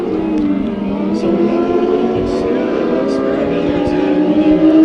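Mod Lites race cars in a heat race roar down the front straightaway into turn one, engines droning and shifting pitch at mid distance, with a commentator talking over the sound throughout.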